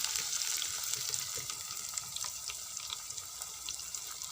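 Chopped masala paste hitting a hot pan over low flame, giving a steady, close, even hiss and crackle of frying throughout with no talking.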